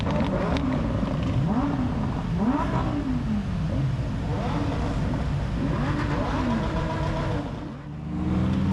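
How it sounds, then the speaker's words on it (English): Several Lamborghini supercars idle and rev together while waiting to set off on a group drive, with loud, close, overlapping engine blips rising and falling across the whole stretch. "this is the sweet, sweet sound of Lambos calling to each other in the wild"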